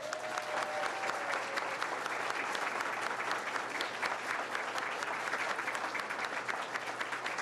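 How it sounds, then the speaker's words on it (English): U.S. embassy staff in Havana applaud steadily, a dense, even wash of many hands clapping heard from a slight distance, holding at moderate loudness throughout with no break. "Give them a big round of applause."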